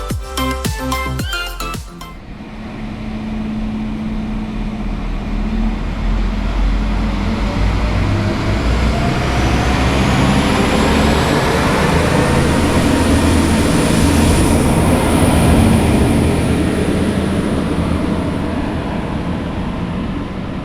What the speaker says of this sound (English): now I'm leaving the train and we can listen to the sound of it leaving Goslar.